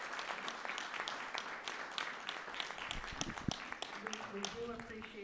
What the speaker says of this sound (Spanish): Muchas gracias, candidatos, y podemos darles un buen aplauso.